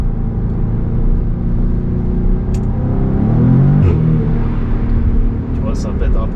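Audi S3 8V engine accelerating from the cabin, a loud low rumble with a rising tonal sweep midway as revs climb, under someone speaking throughout.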